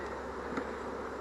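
Honeybees buzz in a steady, dense hum close by during a hive inspection, a continuous drone with no talk.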